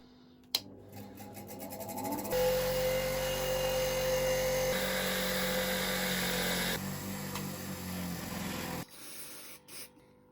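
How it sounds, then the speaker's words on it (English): A bench grinder runs up to speed and steadily works rust off brake caliper bolts from a rear caliper rebuild, with a loud continuous whine and grinding hiss that shifts in tone as each bolt is pressed to the wheel, then spins down. "I just want to give all these a quick clean up on my bench grinder"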